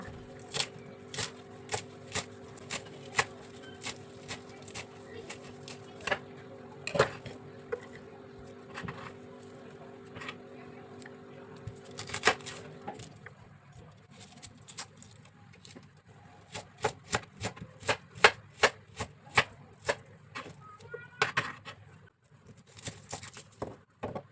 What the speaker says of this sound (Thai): เราก็จะมาหั่นเครื่องหอมต่างๆของเรานะคะ